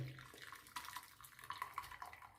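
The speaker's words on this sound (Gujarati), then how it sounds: "આ રીતે વધારાનું પાણી કાઢી લઈશું" Water splashing and trickling out of a pot as excess water is drained from boiled green peas, with light metallic clinks, fairly faint and close.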